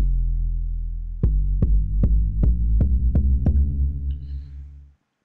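Stretched trap kit 808 bass in Logic Pro X: a deep sustained low tone followed by a run of seven evenly spaced punchy hits over the lingering bass, which then fades out.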